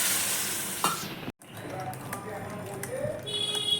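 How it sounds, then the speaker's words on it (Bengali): Ghugni, a spiced chickpea curry, reheats in a pan on a home gas stove, giving a steady close sizzle with stirring scrapes and a brief clink of utensils against the pot. "ঘুগনিটা গরম করে নেবো।"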